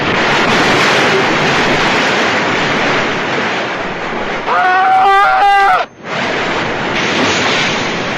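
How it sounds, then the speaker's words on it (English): Loud, steady rushing water like a waterfall roars throughout, briefly dipping near the end, with a short tonal sound effect over it in the middle. "Henry, it sounds like a waterfall!"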